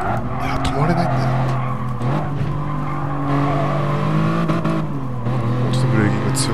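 A race car in a racing video game skids and squeals its tires, unable to brake, its engine droning steadily throughout while someone talks over it.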